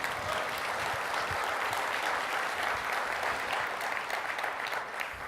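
A conference audience at a developer event applauds with dense, steady clapping that keeps a constant level for about five seconds and has no talk over it.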